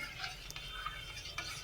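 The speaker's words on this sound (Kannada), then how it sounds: "ಇದನ್ನು ಒಟ್ಟಿಗೆ ಎಲ್ಲ ಕಲಿಸ್ಬೇಕು." A spoon stirs about four spoonfuls of sugar into milk in a pot for an almond milk shake, giving a steady scraping swirl with a few light metallic clinks, close and alone.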